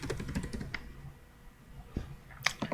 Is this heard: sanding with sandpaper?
no